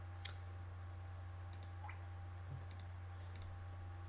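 A few sparse, quiet clicks from a computer keyboard, spread across a few seconds over a steady low electrical hum.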